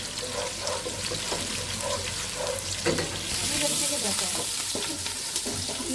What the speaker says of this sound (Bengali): ভাবি পেঁয়াজ ভেজে নিচ্ছে তেল সরিষার তেল